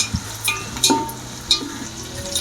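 Coriander seeds dry-roasting in a pan give off a soft sizzle, punctuated by a few light clinks and scrapes as a spoon stirs them, with a faint steady hum underneath.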